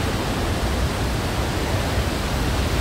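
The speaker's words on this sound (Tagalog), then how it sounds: "Guys, unang falls pa lang yan guys" Pagsanjan Falls in Cavinti, a powerful waterfall roaring close by as a steady, dense, unbroken rush of falling water with no voices.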